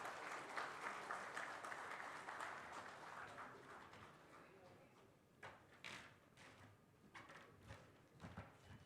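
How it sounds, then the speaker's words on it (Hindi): An audience applauds to welcome the chief guest at a formal event, a dense round of clapping that fades into scattered claps and knocks, with a voice speaking partway through. "एक बार जोरदार तालियों के साथ स्वागत।"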